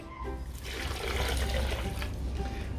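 Half a litre of water is poured into a blender for homemade bone-meal fertilizer for tomatoes, giving a steady, close gush and splash that swells slightly and runs continuously.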